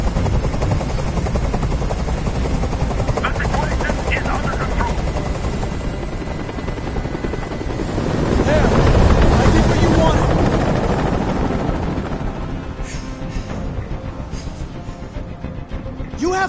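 Steady, loud rotor thrum of a hovering helicopter in the video game Detroit: Become Human fills the whole stretch, swelling slightly midway, with faint voices beneath.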